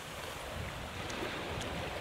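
Choppy sea waves slap against a sailing boat out on open water in light wind, a steady broad wash of water and wind noise with no voices.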